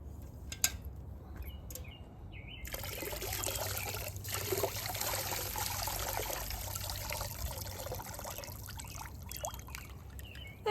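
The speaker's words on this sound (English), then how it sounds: "So now is my onions juice will go into the rainwater." Pre-cooked onion skin juice trickles and splashes as it is poured into collected rainwater outdoors, a continuous close liquid dribble beginning a few seconds in, with faint birds in the background.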